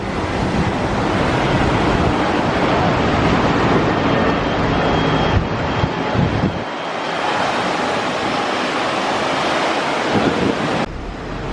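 Waves wash onto a small beach on Crete, a loud, continuous roar of surf heavily mixed with gusting wind buffeting the microphone, with brief dips and swells and no voices.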